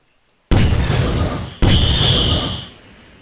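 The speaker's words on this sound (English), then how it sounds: "Fire at the enemy." Two loud, close booms of gunfire and explosions in the video game Garry's Mod, the second following about a second after the first and ringing out with a fading tail.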